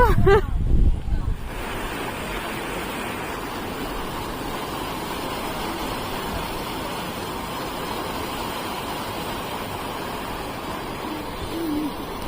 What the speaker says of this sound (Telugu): నాకైతే ఈ నీటి సౌండ్ భలే ఇష్టం అండి